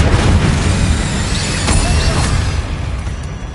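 An Incendio fire spell blasting in Hogwarts Legacy inside a tomb, a loud, close, sustained roaring burst of flame with crackling debris that fades slightly toward the end, no voices.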